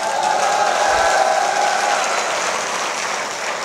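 An audience at a public event with India's defence minister breaks into applause, a steady crowd clapping that stays strong and even throughout before easing slightly at the end.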